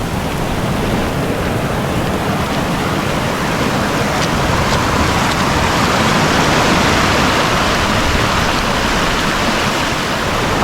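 A flooded stream rushing after heavy rain, a loud, continuous roar of churning water close by, steady throughout with no voices.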